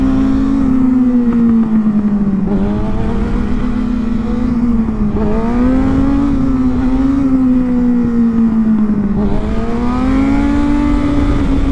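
A 2019 Kawasaki ZX6R sportbike revs hard and accelerates, its engine note climbing and dipping in waves across several throttle pulls, loud and close throughout with no talking.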